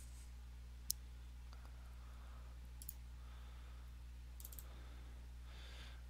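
A computer mouse clicked in a quiet room, a few faint, sharp clicks spaced irregularly over low steady background hum.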